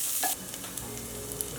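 Onions fry in a pan with ginger-garlic paste and curry leaves, a close, steady sizzle broken by a few stirring scrapes and small pops. No one talks.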